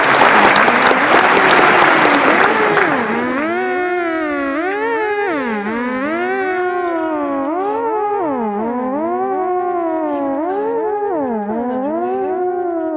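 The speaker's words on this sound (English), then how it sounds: "Big round of applause" Applause for a speaker at a live science-theory show, a dense burst of clapping for about three seconds that gives way to a loud, wavering siren-like electronic tone which carries on alone to the end.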